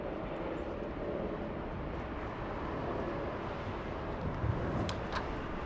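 A Japan Airlines Boeing 787-8 Dreamliner rolls for takeoff at Los Angeles International, a distant, even jet rumble that stays steady with no talk over it.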